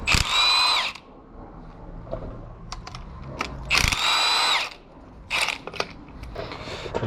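A power tool with an E12 socket spins out a bolt on a damaged Mercedes-AMG M113K engine, giving three loud whirring bursts with metallic clicks and clatter between them, close up.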